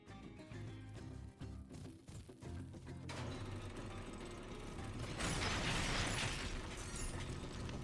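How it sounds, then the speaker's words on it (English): Elevator machinery in the video game Skylanders: Spyro's Adventure, heading into a troll warehouse: a steady mechanical rumble with ratcheting clanks, swelling to a louder grinding rush near the end, with no voices. "the elevator into the troll warehouse is right this way"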